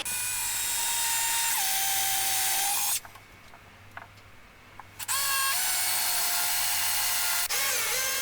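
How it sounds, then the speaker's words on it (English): A power drill with a 6mm bit whines at high speed for a few seconds drilling into wood, stops briefly, then spins up again for two more bursts. "I used a flag stop on my 6mm drill bit and just drilled down to the flag stop."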